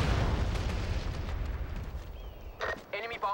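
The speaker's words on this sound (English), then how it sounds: "Enemy bombers destroyed." Destroyed enemy bombers explode in the war shooter MAG, a heavy rumbling blast that fades into low background noise, followed by a radio-style voice and a couple of sharp pops.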